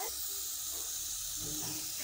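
Shallots sweat in a little oil in a pan for pumpkin soup, giving off a steady, soft, even hiss that holds without a break.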